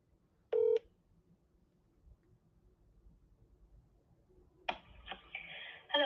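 A telephone number is dialed to reach a real-estate listing agent: a short tone burst at the start, then quiet line hiss, then a burst of dial and ring tones near the end, with no talking.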